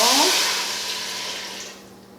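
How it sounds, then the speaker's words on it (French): Broth poured into a pot holding caramelized onions gives a short, bright splashing gush that fades over about two seconds. "On dépose une partie du bouillon."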